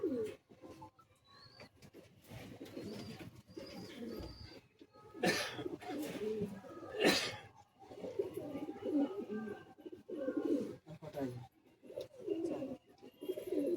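Pigeons in a loft at Bagnan, soft repeated cooing and throaty burbles rising and falling over several seconds, with a few sharper calls and rustles nearby; no talking.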